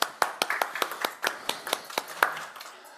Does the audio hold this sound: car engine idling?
no